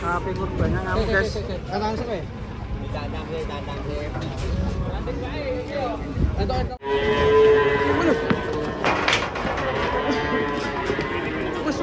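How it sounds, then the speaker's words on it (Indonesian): Sacrificial cattle unloaded from a truck low and moo repeatedly amid a noisy crowd of voices and commotion, the animal calls rising over continuous chatter. "Sapi kurbannya ngamuk guys."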